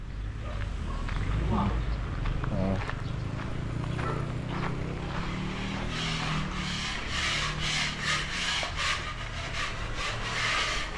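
Wood being sanded by hand with sandpaper on a house construction site, repeated scratchy rubbing strokes in a steady rhythm, with people talking nearby over the work.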